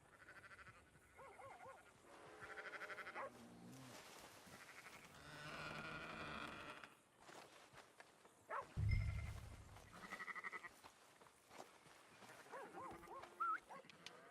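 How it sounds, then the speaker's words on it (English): A dog trapped in a barn in Red Dead Redemption 2 barks and whines in bleating, strained calls, mixed with game sounds and a heavy thump midway. "That's a dog in there."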